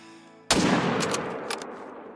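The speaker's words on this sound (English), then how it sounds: "so we should be able to take the shot" A single sharp rifle shot cracks out at a buck in Call of the Wild, loud and close, then rings off in a fading echo after a quiet lead-in.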